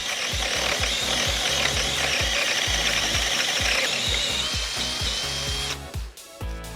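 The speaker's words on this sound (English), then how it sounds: "I'm using a 2-inch Forstner bit to core out a hole in the wood for my plants." A power drill turns a 2-inch Forstner bit through wood, a steady loud whirring grind with a rapid ratcheting chatter running throughout, cutting off abruptly near the end.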